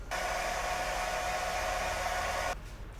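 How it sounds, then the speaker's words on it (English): A hair dryer blows steadily for a couple of seconds, a loud, even whooshing hiss that stops abruptly. "Let's speed this up with our hair dryer."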